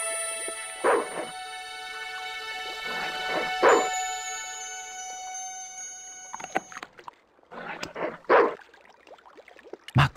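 A dog in the Broken Sword 2 video game gives several short yips and barks in bursts around a steady musical background, with no talk over them.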